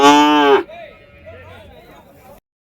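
A single loud, close moo from a bull at the Vaniyambadi cattle market, followed by quiet background chatter and low market noise.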